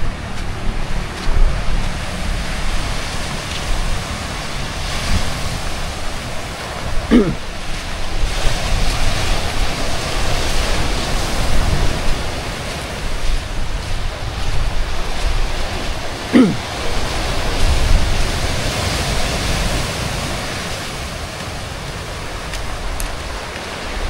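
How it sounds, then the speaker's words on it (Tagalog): Rough ocean waves roll and crash continuously on Patar Beach in Bolinao, Pangasinan, with gusty wind buffeting the microphone throughout. "Tapos ito yung beach. Ayan, maalon talaga siya."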